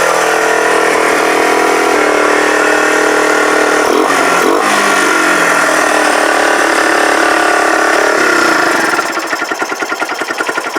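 Kawasaki BN125 Eliminator motorcycle engine running off choke, a loud, close, steady idle with a brief rise in revs and a harsher, choppier chug toward the end, no talk.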